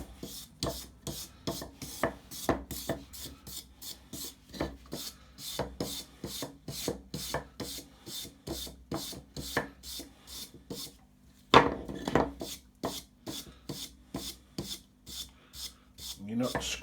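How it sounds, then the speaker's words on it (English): A brush stroking scrap wood along the grain for a tealight holder: a quiet, steady run of rhythmic rasping strokes, one after another, with a brief pause and a slightly louder scrape midway. "Go ahead and give that another brush."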